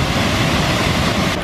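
Steady, dense roaring rush of an Icelandic waterfall, loud and continuous with no pauses.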